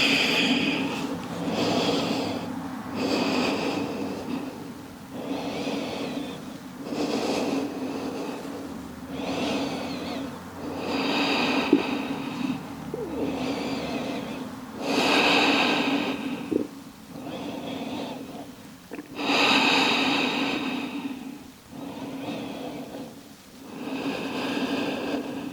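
Deep, slow breathing during a yoga child's pose, with long rhythmic inhales and exhales repeating steadily and close by, heard alone without talk.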